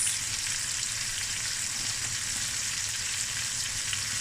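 Lemon zest and juice sizzle in a pan with rice, prawns and paprika, a bright, even hiss of frying that holds steady without pause.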